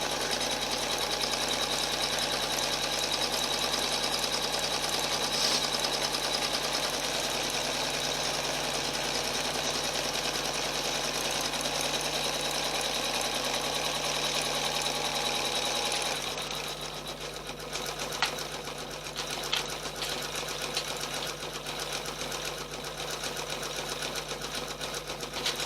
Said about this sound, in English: Now it's going to do a box zigzag.